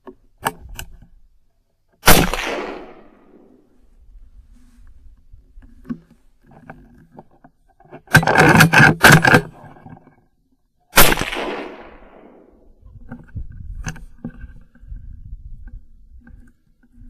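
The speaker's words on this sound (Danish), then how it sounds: "Nå, Søren har skudt til 2 gris" Gunshots on a wild boar hunt in snowy Sweden: a sharp single crack with a trailing echo, then a quick cluster of several shots about six seconds later, and another lone echoing report, all over quiet outdoor ambience.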